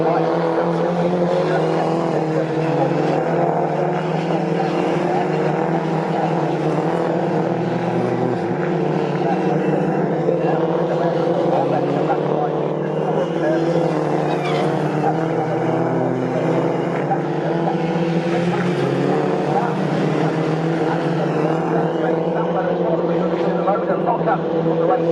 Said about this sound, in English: first sector was Sam Weller, number 11, and he's a lot quicker down the Bentley straight